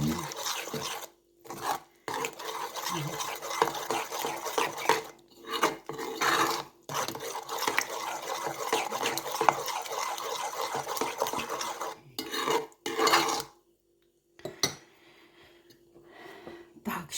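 Yeast pancake batter being whisked in a bowl with circular strokes, a steady close scraping rasp that runs in bursts broken by short pauses, with no voices.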